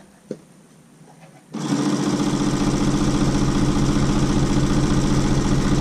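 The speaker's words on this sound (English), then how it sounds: "we're going to sew from the fold to the raw edge" A sewing machine stitches a 1/4 inch fabric seam from the fold to the raw edge while making a face mask, starting after a quiet moment with a small click and then running steadily and loudly without pause.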